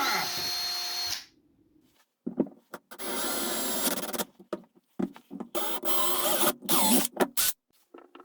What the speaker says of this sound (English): Just going to have to drill a hole in there